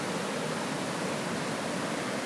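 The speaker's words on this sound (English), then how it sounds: "I'm going to get you that waterfall in a second. It's filthy though, but it's still a waterfall" A filthy waterfall beside old Victorian brickwork roars steadily, a dense, unbroken rush of water that stays constant and fairly loud with no voices present.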